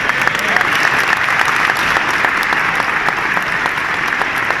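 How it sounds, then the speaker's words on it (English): Steady, dense applause from a large party conference audience honouring the head office and planning team, loud and continuous throughout with no break. "we need to give a big round of applause to the head office and the planning team"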